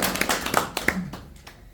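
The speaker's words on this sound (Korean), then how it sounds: "한번 박수 한번 칩시다." Brief scattered clapping from a small meeting audience at a family clan annual general assembly, a handful of sharp claps that quickly fade out.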